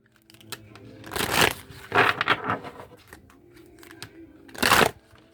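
Rumi Oracle cards being shuffled during a tarot reading: three bursts of papery riffling and crinkling, each roughly half a second long, separated by quieter handling, close and moderately loud with no voice.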